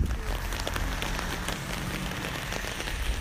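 Steady rain pattering on surfaces outdoors, a dense, continuous hiss with scattered drop impacts, close and fairly loud with no voices.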